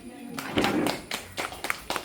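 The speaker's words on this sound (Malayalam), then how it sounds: "അപ്പൊ ആ ആൾക്കൊരു കൈയടി കൊടുക്കണം" Audience at a community meeting of an SNDP branch gives a person a short round of applause, a brief burst of close hand claps that thins into a few scattered claps, with a voice speaking over it.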